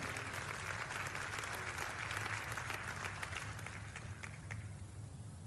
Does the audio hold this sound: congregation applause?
yes